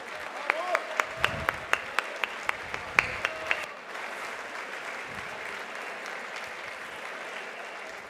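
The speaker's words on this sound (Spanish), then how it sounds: "Lo recibimos con este aplauso," Faint, sparse rhythmic clapping from an audience welcoming a speaker at a political event in Parque Norte, a few distinct claps at first that merge into a soft wash of applause with a faint voice underneath.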